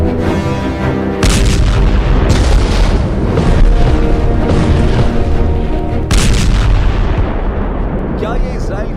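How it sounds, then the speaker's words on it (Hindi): Explosions from strikes in Yemen, Tehran and Gaza come as loud, heavy booms and blasts, several sharp detonations breaking over a continuous rumbling roar. "इजराइल का triple attack, Yemen, Tehran, Gaza में धमाके।"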